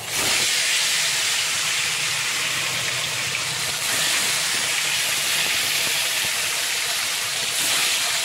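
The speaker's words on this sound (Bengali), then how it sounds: "এই যে মাছ ভাজা হচ্ছে" Fresh fish rubbed with salt and turmeric frying in hot oil, giving a loud, continuous close-up sizzle that holds steady throughout with no voices.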